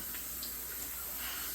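Hot water runs steadily from a kitchen tap into a sink, a constant soft hiss and splash with no pauses, moderately close and fairly quiet.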